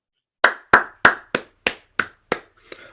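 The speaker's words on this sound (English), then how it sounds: "I don't know why I'm clapping." Seven sharp hand claps in an even, steady rhythm, close and fairly loud, followed by a softer clap at the end, with no talking, during a spoken reading of a Krishna book passage.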